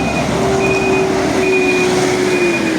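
Truck reversing during roadwork on a village street: a loud, steady reversing beeper repeats in even pulses over a constant heavy engine rumble close by.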